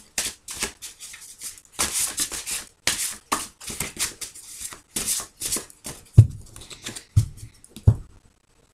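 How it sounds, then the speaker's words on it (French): Witches tarot cards are shuffled by hand in repeated quick riffling bursts, crisp and close, followed by a few slower taps and thumps as the deck settles, with no talking. "on va aller chercher avec le tarot des sorcières un petit peu"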